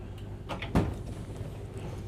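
A single short thump as a dishwasher door opens in the kitchen of a 2026 Newmar Grand Star 3444 motorhome, fairly quiet and close, with only faint room noise around it.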